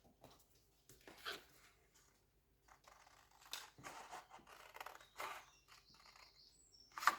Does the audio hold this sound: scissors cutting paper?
yes